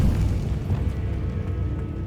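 A Bombarda explosion spell in the video game Hogwarts Legacy lets loose a deep, sustained booming rumble that rolls on loud and unbroken for about two seconds, with no voices over it.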